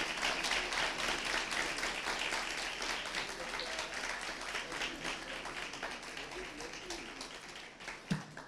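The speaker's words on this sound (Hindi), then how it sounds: "जोरदार ताली बजाते रहे।" Congregation at a Sunday church service applauding loudly, dense sustained clapping with some voices mixed in, gradually thinning toward the end with a sharp tap near the close.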